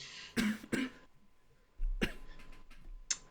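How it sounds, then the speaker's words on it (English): Two quick, husky coughs sound close by, then after a pause a rougher burst of throat noise, with faint rumbling in between. "I can't tell if you're actually coughing"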